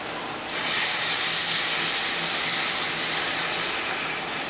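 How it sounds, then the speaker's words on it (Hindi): Cold milk poured onto hot caramelized sugar in a pan sets off a loud, steady hiss that begins abruptly and holds for several seconds, slowly easing, with no voices. "अब ये देखें चीनी कैरामलाइज हो गई है। अब डाल देंगे दूध।"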